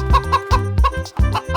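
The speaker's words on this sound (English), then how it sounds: "Chicken." A chicken clucking in a farm-animal sound sequence for children, heard as a few short, loud, rhythmic clucks over a sustained musical backing.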